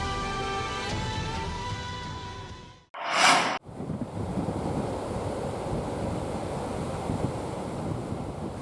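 Big waves and wind in bad weather on the waters off southern Papua: a dense, roaring wash of surf and gusting wind buffeting the microphone, steady and loud, briefly broken by a short burst before resuming.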